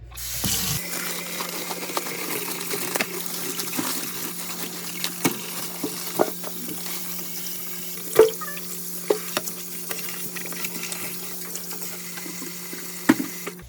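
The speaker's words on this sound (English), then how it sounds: "I'm just gonna wash the chicken quickly." Raw chicken being washed under a running kitchen tap, a steady close stream of water with a low hum, broken by occasional splashes and knocks in the sink.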